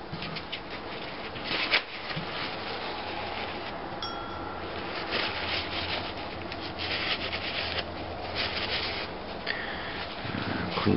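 Toilet paper rubs and wipes the inside of go-kart torque converter weights from a 30 series Comet driver, making soft, irregular scuffing and rustling close by, with faint background noise and no speech.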